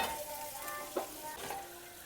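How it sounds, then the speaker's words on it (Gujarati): Okra (bhindi) fries in oil in a pan for a Gujarati rasavalu bhindi shaak, giving a soft, steady sizzle with a brief stirring scrape near the one-second mark, quiet and close. "આપણો ભીંડો સરસ મજાનો સડી ગયો છે"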